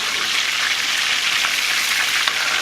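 A whole mojarra fish deep-frying crisp in hot oil, with a loud, dense, continuous sizzle and crackle close up, with no voices.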